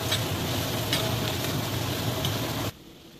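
Tomato hitting a pan of fried onions for Bengali rui fish kalia, a steady loud sizzle with stirring that runs evenly and then cuts off abruptly near the end.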